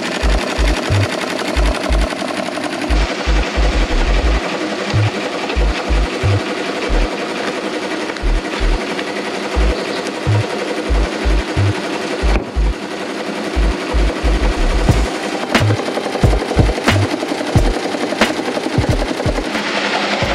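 Tajima embroidery machine stitching hats, a rapid mechanical clatter that repeats in quick bursts with short pauses between them, loud and close, running alone for the whole stretch.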